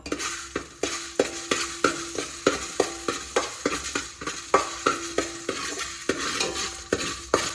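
Fenugreek seeds roasting in buffalo butter ghee, with a spoon scraping the pan in regular, evenly spaced strokes over a soft, continuous sizzle.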